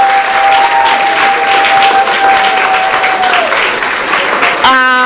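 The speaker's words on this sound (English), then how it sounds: "Can we give ourselves a round of applause?" An audience at an institute's quality-week quiz final applauds loudly and steadily for about five seconds. A thin sustained tone runs beneath the clapping, and a brief tonal sound cuts in near the end.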